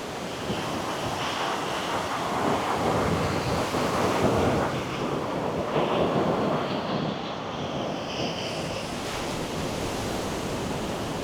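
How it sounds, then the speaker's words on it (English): Big ocean waves crash onto rocks at Storms River Mouth, a steady loud roar of surf with wind buffeting the microphone throughout, no voices. "these big giant waves just crashing on these rocks"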